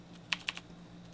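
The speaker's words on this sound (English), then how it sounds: "This is actually me typing horribly fast." A few quick, crisp computer keyboard clicks from fast typing in a quiet room, close and light, over faint background hum.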